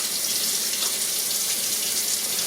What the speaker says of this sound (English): I'm washing my hands because I'm operating the camera while I'm making this.